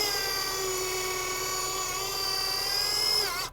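Power drill whining steadily as it drives a screw into a log while building a log cabin, a sustained high-pitched motor tone that holds for several seconds before stopping abruptly.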